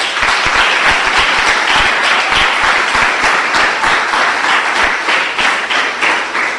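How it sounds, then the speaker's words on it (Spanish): A church congregation applauds for the Lord during a Marian sermon, a loud, sustained mass of hand claps with sharp individual claps standing out, carrying steadily for several seconds without voices over it. "Démosle un aplauso al Señor."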